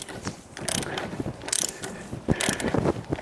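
A ratchet tool clicks in quick bursts while it tightens bolts on an engine's front accessory drive. The rapid pawl clatter comes close and loud, broken by short pauses between strokes.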